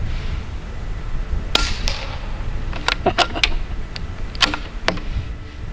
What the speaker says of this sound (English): Love that dull thud of hitting a stump.